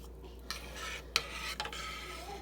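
Metal strainer scraping and clinking against a pot while scooping fatty homemade turkey soup, a few distinct scrapes and taps over a faint low hum, close and fairly quiet.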